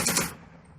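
Short burst of rapid gunfire from the Second Front wargame video game, a quick loud rattle lasting a fraction of a second before cutting off into quiet.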